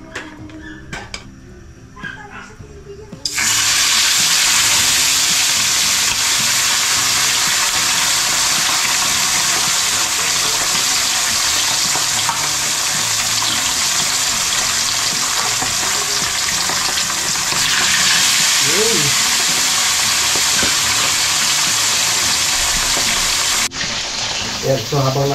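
Ingredients for kaldereta fry hard in a pan, a loud continuous sizzle that bursts in after a few quiet seconds and crackles steadily for about twenty seconds before cutting off.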